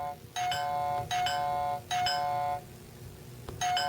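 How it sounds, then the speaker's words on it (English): A repeated electronic doorbell chime from a brain-exercise video game, sounding three times in a steady rhythm and starting a fourth, bright and clear with a ringing tone. "who doesn't love the sound of a doorbell"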